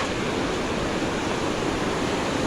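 The Tamor River flows as a loud, steady broadband rush of water with no breaks, close and continuous.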